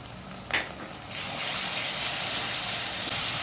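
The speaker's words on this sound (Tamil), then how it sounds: "நல்லா பச்சை வாசனை போகிற வரைக்கும் வதக்கிடலாம்" Ginger garlic paste sautéing in a hot pan for prawn biryani gives a soft hiss that swells after a brief clink, then holds as a steady, fairly loud sizzle with no talking.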